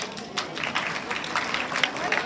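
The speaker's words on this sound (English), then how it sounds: "so please give them a big round of applause." Audience applause for a group of kids after their Pathasala presentation, a steady, moderately loud patter of many hands clapping in a room for a couple of seconds.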